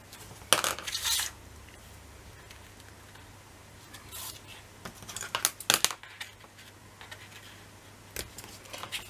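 Scissors snipping through paper for a Stamperia wedding album page, a few short crisp cuts in separate bursts with quiet pauses between, close by, with no talking.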